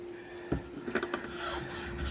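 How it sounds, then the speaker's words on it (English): Spokeshave shaving wood on a wheelbarrow handle, close up: a few short rasping strokes over a steady low hum, no talk. "This is a Spokeshave"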